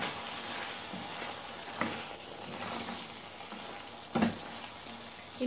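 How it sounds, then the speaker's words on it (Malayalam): Chicken piralan fries in a pan as it is stirred, a steady moderate sizzle with occasional scraping stir strokes and a sharp clink near the end, no voices. "ഇനി ഇത് ഇടയ്ക്കിടയ്ക്ക് ഒന്ന് അടുക്കി പിടിക്കാതെ ഇളക്കി കൊടുക്കണം."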